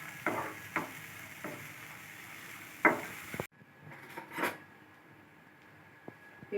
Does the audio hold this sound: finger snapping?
no